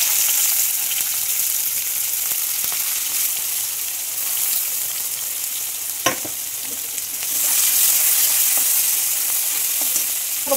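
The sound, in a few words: onions sizzling in oil with bay leaf and dried chili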